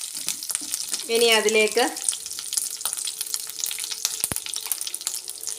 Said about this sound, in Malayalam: അതിനുശേഷം വീണ്ടും അത് നന്നായിട്ട് ഇളക്കി കൊടുത്തുകൊണ്ടിരിക്കുക.